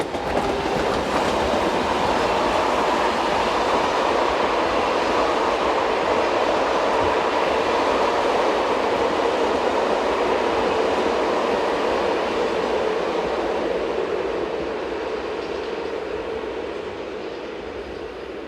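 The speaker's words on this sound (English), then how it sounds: "Approaching the camera is reclassified BB7200 electric number 7609, one of a series that have been adapted to work push-pull suburban trains around Paris." An SNCF BB7200 electric locomotive, number 7609, passes close by with a push-pull suburban train near Paris, a loud steady rolling roar with wheel clatter that holds throughout and eases slightly at the end.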